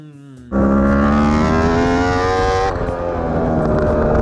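Racing motorbike engine pulled to full throttle, a loud close roar that jumps in abruptly and climbs steadily in pitch before easing slightly and holding, no voices.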